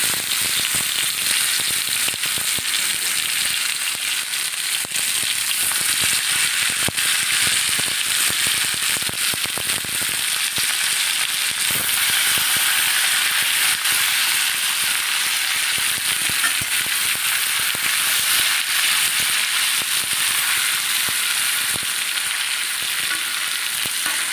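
Whole fish sizzles steadily in hot oil, a continuous bright crackling hiss that holds at a loud, even level with no pauses and no voices.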